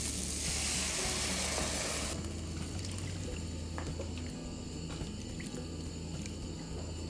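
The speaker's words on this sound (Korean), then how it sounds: "볶은 야채에 쌀뜨물 넣겠습니다." Rice water poured into a pan of stir-fried vegetables, a loud rushing pour and sizzle up front that settles into a steady bubbling hiss.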